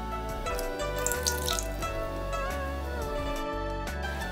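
Water runs steadily from a kitchen tap, a close continuous splashing stream with some tonal ringing, with no voices.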